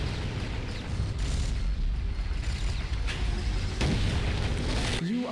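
A vehicle blowing up in Unreal Tournament 2004, a dense booming explosion with crackling debris amid constant battle noise and game effects, loud and sustained without a clear single onset.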